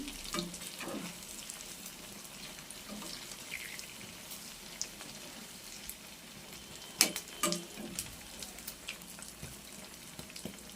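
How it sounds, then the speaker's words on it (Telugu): Urad dal vadas fry in hot oil with a steady, close crackling sizzle throughout, broken by a few sharper pops and utensil taps. "ఇంకో సైడ్ కూడా బాగా కాగేంత వరకు వాటిని అలాగే వదిలిపెట్టేసుకుందాం"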